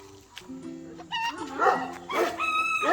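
A Central Asian Shepherd dog left behind outdoors whines and whimpers, then breaks into a few high, yelping barks, close and fairly loud.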